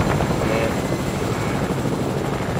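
A helicopter in the video game Fortnite thrums with a steady, loud, continuous rotor and engine drone that fills the whole stretch without letup.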